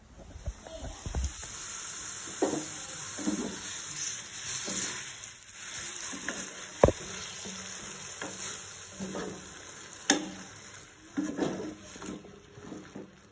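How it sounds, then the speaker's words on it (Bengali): Spices frying lightly in a pan with spinach paste, a soft continuous sizzle with occasional stirring scrapes and clinks, close and fairly quiet. "এগুলো আমি হালকা করে ভেজে নেব।"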